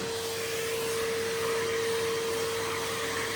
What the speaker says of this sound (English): Just giving this velvet chair a vacuum.